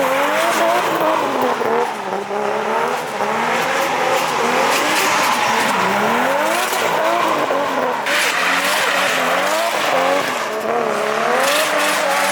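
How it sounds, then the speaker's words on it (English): Loud, sustained tire squeal with a revving engine rising and falling as a car spins in tight circles, continuous and close. "More cars doing donuts."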